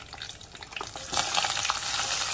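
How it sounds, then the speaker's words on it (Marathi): Onions and curry leaves fry in oil in a pan for fish biryani. A crackling sizzle with stirring swells louder halfway through the brief moment. "आता कांद्यानंतर आपण हे सगळं मस्त असं फ्राय करतो"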